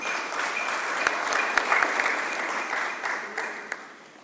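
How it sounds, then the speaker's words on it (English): Steady applause from an audience at a book launch for a biography, a broad even wash of clapping with a few sharper claps standing out, lasting throughout and easing slightly at the end. "Can we give him a round of applause?"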